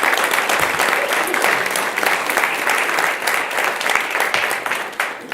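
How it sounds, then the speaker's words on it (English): A school board meeting audience applauds the Centennial High School football team, dense continuous clapping from a room full of people, loud and sustained for several seconds before tapering slightly at the end. "let's give them a big round of applause"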